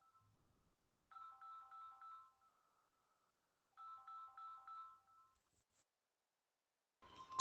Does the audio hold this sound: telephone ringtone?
yes